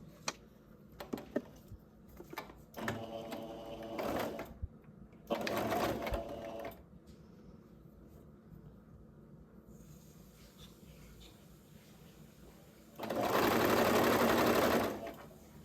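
A sewing machine stitches a narrow double-folded hem on a flared dress in several short bursts of rapid mechanical whirring, close and clear, with quiet handling gaps between the runs and a longer burst at the end.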